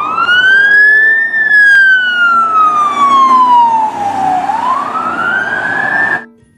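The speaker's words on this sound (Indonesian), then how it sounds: "Mobil polisi teman-teman." Toy police car siren wailing in a long rising and falling electronic sweep, loud and close, running alone without talk before cutting off abruptly at the end.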